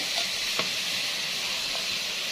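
Onions sizzling in ghee in a pan, a steady close frying hiss with a faint clink or two of a spoon, brief and uninterrupted by talk.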